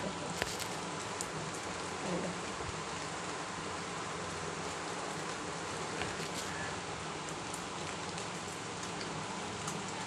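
Steady rain falling outdoors, a dense continuous hiss that stays even and fairly loud throughout, with no voices or other distinct sounds breaking through.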